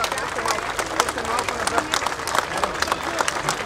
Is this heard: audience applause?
yes